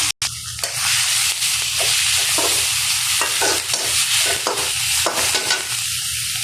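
Chopped onions fry in a pan after fish, a steady close sizzle with repeated scraping stir strokes, continuous and loud with no talking.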